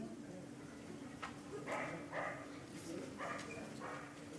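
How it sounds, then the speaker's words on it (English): Coyote barking outdoors, a few short agitated dog-like barks at moderate distance against a steady background hum, with no talk over them. "No, this is coyote. Sounds like a dog. They do bark."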